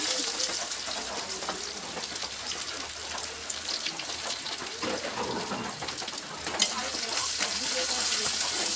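Chopped onion and whole garlic with a few dried chillies fry in oil, giving a steady, close crackling sizzle with occasional stirring scrapes and a small clatter, continuous throughout without speech.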